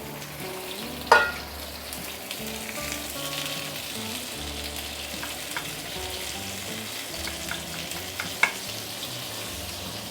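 Marinated prawns fry in a hot wok for soy sauce prawns, giving a continuous soft sizzle with a couple of sharp clatters of utensils, and no voices.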